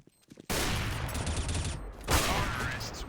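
Gunfire in a first-person shooter game in a bomb round: a sudden loud burst of sustained automatic fire starts after a brief quiet moment, runs continuously and swells again partway through.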